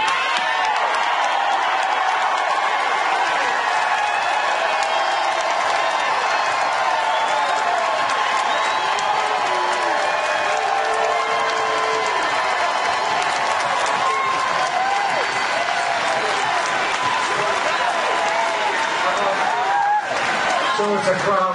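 A crowd at a healthcare town hall with Rep. James Moran and Howard Dean cheers and applauds loudly and continuously, with clapping, whoops and scattered shouts forming a steady roar throughout.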